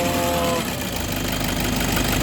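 A 2005 Toyota D4D diesel engine with throttle delay and a noisy rocker arm revs up under load, a loud, dense rumbling roar with rattling texture filling the whole clip up close.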